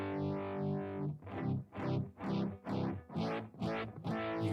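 An electric guitar played through a Spark amp with a blended vibrato and chorus modulation effect, sustained chords pulsing in a steady, deep throbbing rhythm about once per half second.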